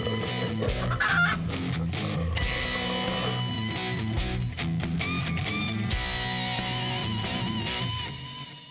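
Several chickens cluck busily and continuously, close and fairly loud, their calls overlapping without a break.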